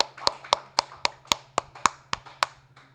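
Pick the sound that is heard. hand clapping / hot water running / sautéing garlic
hand clapping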